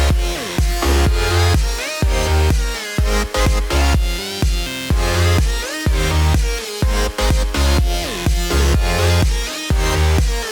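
A full EDM song drop plays with every part together: punchy kicks, bright synth leads and bass packed into a dense, loud, continuous mix with a steady driving rhythm.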